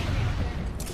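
Gunfire in Apex Legends during a ranked match, a dense rattling burst of shots filling the short moment, loud and continuous with no talk over it.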